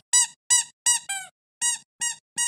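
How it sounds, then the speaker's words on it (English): A rubber dog toy squeaked seven times in quick, fairly even succession, each a short high-pitched squeal with a faint puff of air, loud and close with silence between squeezes. "Dog toys should sound like this."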